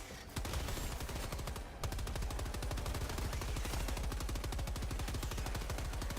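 Helldivers 2 gunfire: loud, rapid automatic bursts hammering almost continuously, with a brief pause near two seconds before the steady rattling resumes.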